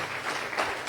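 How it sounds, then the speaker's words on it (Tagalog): A congregation at a Filipino worship gathering breaks into loud, lively applause, a brief, continuous burst of clapping heard up close. "Malakas at buhay na palakpak."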